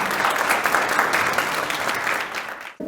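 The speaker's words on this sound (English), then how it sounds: "A round of applause." A conference audience breaks into full, dense applause that holds steady for a few seconds, then abruptly cuts off.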